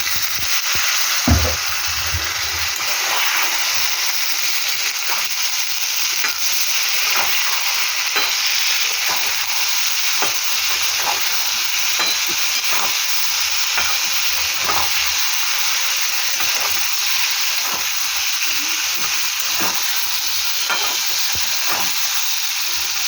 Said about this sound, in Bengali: এটাকে ভাজবো ভালো করে। ডাটাটাও দিয়ে দেবো।